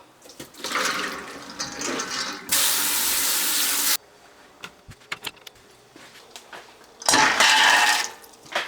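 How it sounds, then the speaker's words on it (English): Two pounds of red beans soaked overnight are strained and rinsed under a kitchen tap, with two loud bursts of running water broken by a stretch of quieter clattering and handling of the beans in a strainer. Nobody speaks. "now we're gonna strain them, rinse them, and get started"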